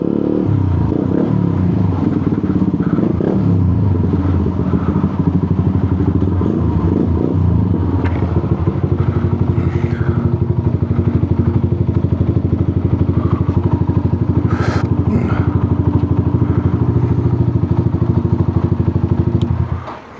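A motorbike engine rumbles and idles close by while rolling slowly through a KFC drive-thru, a steady throbbing drone with occasional clatter and brief throttle changes, continuing for about twenty seconds.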